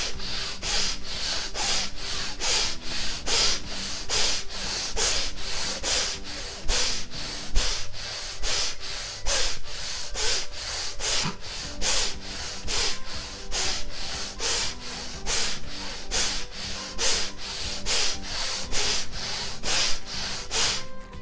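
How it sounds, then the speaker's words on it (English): Forceful Bhastrika pranayama breathing, rapid rhythmic inhales and exhales through the nose, each a sharp rushing puff in a steady repeating pattern of about one per second, close and loud with no talking. "Take a breath, inhale, exhale, inhale, exhale."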